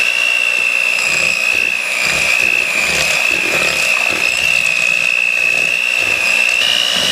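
A handheld electric mixer creams cream cheese with sugar and cornstarch for a jam marble cheesecake brownie batter, giving a steady, loud motor whine with a constant pitch running through the whole stretch with no talking.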